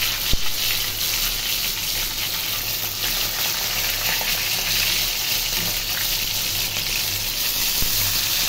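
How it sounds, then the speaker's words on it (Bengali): Fish frying crisp in a pan of hot oil, a steady dense sizzle and crackle running loud and unbroken from start to finish with no voices. "মাছটা কিন্তু একেবারে মচমচ ফ্রাই করবো"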